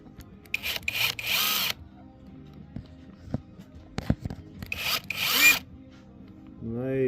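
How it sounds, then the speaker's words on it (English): A CAT DX71 impact drill runs in two loud bursts of about a second each, separated by quieter handling noises, with a brief voice at the end. "This is probably the most heavy dutyest drill I've ever seen."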